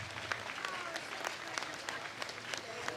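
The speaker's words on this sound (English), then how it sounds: "round of applause for our silver medalists" Applause for silver medalists at a US Open pickleball championship, a steady wash of many hands clapping from a distant crowd, faint and continuous with occasional sharper claps standing out.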